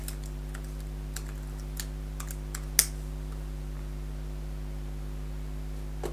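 Sparse keyboard key presses on a Mac click over a steady electrical hum, with one sharper tap partway through.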